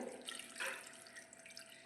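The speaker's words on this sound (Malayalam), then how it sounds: "നമ്മൾ തിളപ്പിച്ച ആറിയ വെള്ളം ഇതിനകത്തോട്ട് ഒഴിക്കുകയാണ്" Cooled boiled water poured into a glass bottle, a brief close splashing trickle with a bright gush midway, heard alone without talk.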